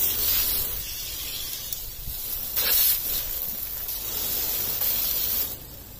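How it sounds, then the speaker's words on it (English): A soft, steady hiss from a spray bottle misting water on delphinium cuttings runs for several seconds, with brief pauses and surges, fairly quiet and close. "Use this just to spray them. Just get all the excess."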